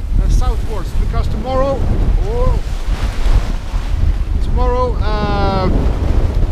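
Strong wind on the bow of a boat crossing the North Sea in winter roars and buffets the microphone continuously and loudly, with brief tonal voice-like sounds rising over it.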